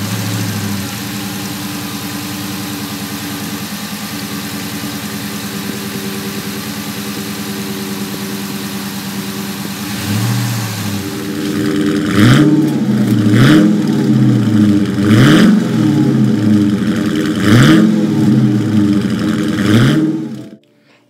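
A 2020 Dodge Charger Scat Pack with a 6.4 liter V8 idles with a deep steady rumble, then snaps into a series of about six sharp revs, each climbing and falling back, loud and close.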